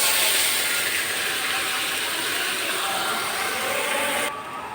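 A small splash of water hits a hot pan of cooking bottle gourd and sets off a loud, steady sizzling hiss that holds close and strong, then cuts away just before the end.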